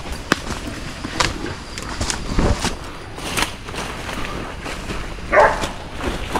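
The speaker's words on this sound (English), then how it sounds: "I can hear my dog." Hunting dog barking while chasing wild pigs in the bush, pig hunting in the Northern Territory; scattered, fairly distant barks come in short bursts over rustling and footsteps, with one louder yelp near the end.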